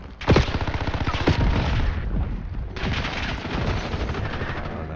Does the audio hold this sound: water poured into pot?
no